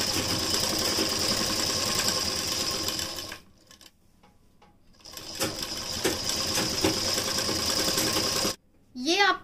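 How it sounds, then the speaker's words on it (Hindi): A sewing machine stitching the side slit of a kurti, running in a steady whirring buzz, stopping for a short pause, then starting again before a final brief burst with small mechanical clicks. "यहां पर अब हम सिलाई लगाएंगे।"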